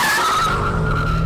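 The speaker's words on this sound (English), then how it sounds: "600 horsepower going through the rear wheels and twin turbo under the bonnet make the M5 supremely easy to drift" A 2018 BMW M5, a 600-horsepower twin-turbo sedan sending its power to the rear wheels, drifts with a loud, sustained tire squeal and engine roar, close up, with no talking.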